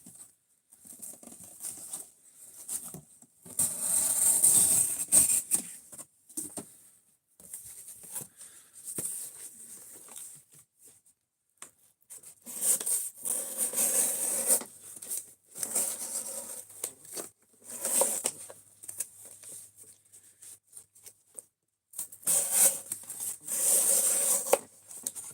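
A knife blade cuts up cardboard in repeated scratchy, rasping bursts of slicing and tearing, close by and separated by short pauses, with no talk.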